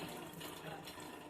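Water rinsing rubber sheets at a rubber processing plant, a steady faint rushing and splashing flow, brief and continuous.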